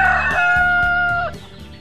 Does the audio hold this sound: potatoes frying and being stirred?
no